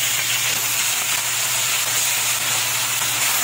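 Native chicken hits a hot pan of ginger, garlic and onion, setting off a steady, loud close sizzle and hiss of frying that holds unbroken throughout, with no voices.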